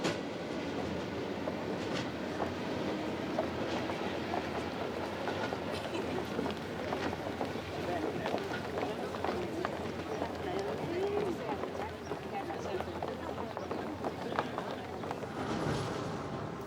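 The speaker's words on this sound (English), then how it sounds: "The last few miles of my journey into Vladivostok are along the Trans-Siberian Railway line" A train runs along the Trans-Siberian Railway on the final stretch into Vladivostok, giving a steady, continuous rolling rumble with faint rhythmic clatter throughout, mixed with broadband ambient noise.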